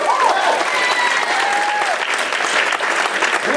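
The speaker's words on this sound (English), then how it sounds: "You can celebrate, please clap." Crowd at a volunteer gala applauding a theater season announcement, loud sustained clapping from a full room with a few whoops and voices mixed in.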